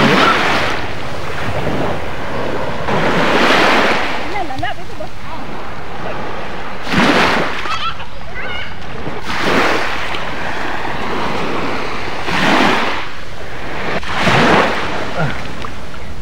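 Sea waves wash in repeated surges along a beach, each swell rising and falling every few seconds, with wind buffeting the microphone throughout and occasional voices in the background.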